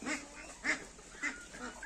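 Ducks bathing outdoors quack in a few short bursts about half a second apart, fairly close, with soft background noise between calls.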